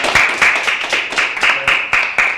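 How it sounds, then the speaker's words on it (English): Audience applause at an NAACP youth leadership session, steady clapping from a crowd with sharp hand claps repeating throughout, close and fairly loud, with no talking. "And give yourselves a round of applause for being here this morning."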